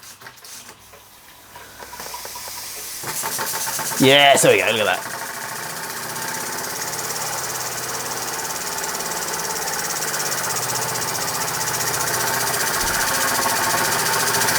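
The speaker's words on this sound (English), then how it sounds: "Empire Model 62, long boiler version, under steam for the very first time" An Empire Model 62 long boiler model steam engine running under steam, a steady hiss and light mechanical chatter building after a brief louder burst as the regulator opens, with a person talking over the start.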